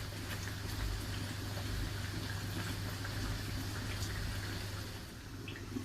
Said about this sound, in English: now we've got everything bubbling away